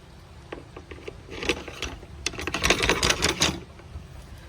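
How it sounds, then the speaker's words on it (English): Clamps being tightened onto a track guide rail and workpiece for a Metabo HPT 36V cordless plunge router: a run of sharp clicks and ratcheting snaps, close and moderately loud, clustering densely in the middle stretch. "I'm gonna clamp the other side"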